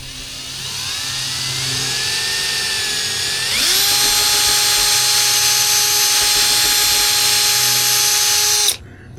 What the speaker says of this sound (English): I'm gonna see if I can drill this out just a tad